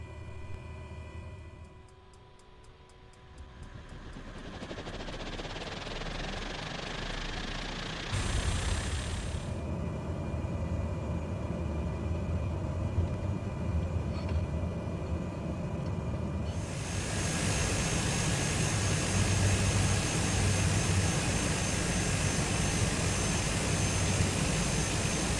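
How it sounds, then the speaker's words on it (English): A small aircraft engine in Microsoft Flight Simulator cranks, catches and builds into a steady droning roar, growing louder and brighter partway through. "And let's start the engine and get going."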